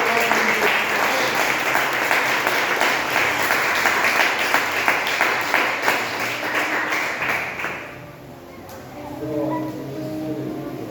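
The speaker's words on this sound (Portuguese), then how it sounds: "Aplauda o nome do Senhor" A church congregation applauds during a worship service, dense sustained clapping filling most of the stretch before thinning out, with voices mixed in near the end.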